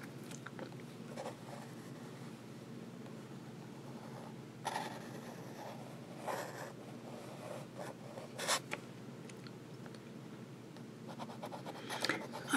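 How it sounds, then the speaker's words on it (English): A Lamy Safari fountain pen nib scratches across paper while writing in reverse, giving faint dry scratches and brief rasping strokes in a quiet room, alone. "And you do get reverse writing."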